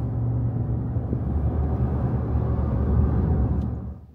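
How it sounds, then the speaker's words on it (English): A pickup truck's 5-liter engine runs with a steady, deep, low rumble that holds even throughout before tapering off at the very end, with no talking over it. "Wait, listen to that 5-liter."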